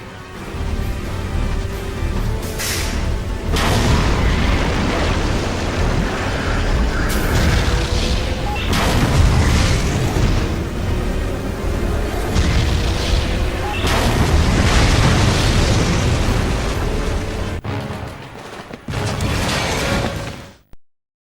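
Rapid, loud explosions and booming blasts roll almost continuously for about eighteen seconds in the 2002 James Bond Nightfire video game, dense and layered with debris crashes, then cut off abruptly.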